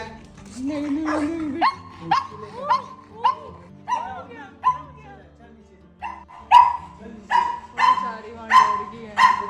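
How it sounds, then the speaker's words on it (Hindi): A pug barks repeatedly nearby, sharp bursts coming in irregular runs with short gaps, while a person talks at the start. "बट इनके पास ये पग है ना, तो वो बहुत ज़्यादा भौंकने लग जाता है"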